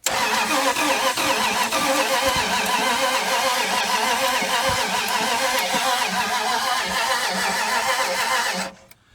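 A 1980 Dodge Power Wagon that sat for 20 years cranks hard on its starter, which has a troubled solenoid, while trying to fire. It is a loud, steady churning engine turnover that runs without pause for nearly nine seconds, then cuts off abruptly.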